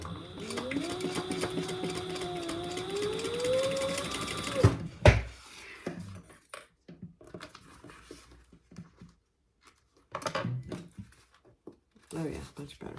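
An industrial or domestic sewing machine runs steadily, stitching a clutch bag with a shortened stitch length, then stops abruptly; afterward come scattered handling noises and a few spoken words.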